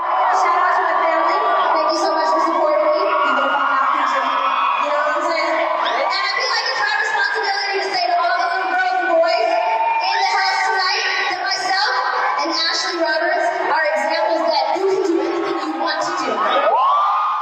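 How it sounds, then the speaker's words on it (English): Crowd roaring at a concert, a dense, sustained swell of shrieking, cheering and whooping voices that stays loud throughout. "And then the crowd kind of roars."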